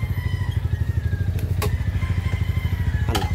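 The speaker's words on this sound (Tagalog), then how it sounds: "Antik na yung motor ni Bay dito." An old Rusi Sigma 250 motorcycle engine runs close by with a loud, steady, rapid thumping pulse and some mechanical clatter, a couple of sharp clicks cutting through near the middle and end.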